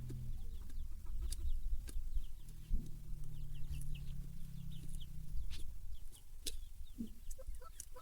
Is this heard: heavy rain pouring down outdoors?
no